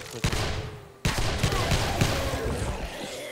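Submachine-gun fire in the survival video game 7 Days to Die, rapid bursts of shots with sharp attacks and a brief pause before the firing resumes, loud and close.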